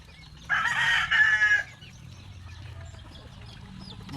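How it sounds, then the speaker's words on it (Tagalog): Roosters in a farmyard let out one loud, close crow lasting about a second, followed by quieter low clucking and background farm noise; no talking. "Oh, daw sila Mga sunoy."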